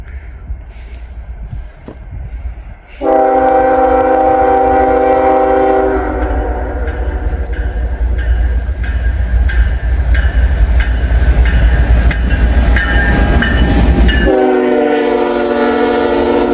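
Freight train hauled by a single locomotive passing near a level crossing: a loud horn blast over a heavy rumble, then steady rolling wagons with clicking wheels and a second horn sounding near the end.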